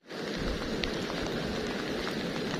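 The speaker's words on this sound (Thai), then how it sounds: "ตอนนี้ก็ตกอยู่พี่น้องเห็นบ่สายฝนนี่" Steady rain pouring outdoors in rural Isan, Thailand, a dense, even hiss of drops on surfaces that fades in quickly and holds at moderate loudness, with no voices.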